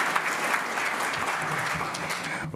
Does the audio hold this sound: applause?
yes